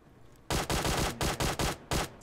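Gunfire in PUBG Mobile on the Sanhok map: seven loud, close shots ring out in quick uneven succession, each a sharp crack, with a short gap before the last.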